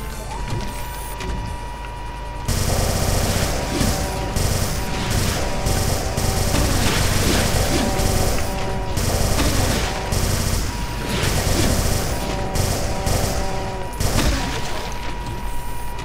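Sustained weapon fire in Brutal Doom with the SIGIL episode running on GZDoom, a dense continuous barrage of loud shots and blasts over a steady droning background, lasting most of the stretch.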